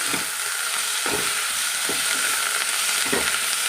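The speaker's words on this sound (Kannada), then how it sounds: "ನುಗ್ಗೆ ಸೊಪ್ಪು ಹಾಕಿಬಿಟ್ಟು ಚೆನ್ನಾಗಿ ಮಿಕ್ಸ್ ಮಾಡ್ತೀನಿ" Drumstick leaves fry in a pan under a steady hiss of sizzling, broken by a few rhythmic scraping strokes of stirring, close and fairly loud.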